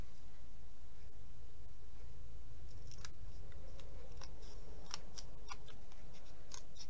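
Scissors trim the edge of a rhodoid plastic sheet on a bookmark, making a quiet run of short, crisp snips that grow more frequent in the second half.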